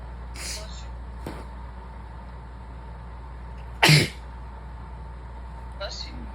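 A single sharp, loud sneeze cuts through a quiet room, close to the listener, among softer sounds and faint speech.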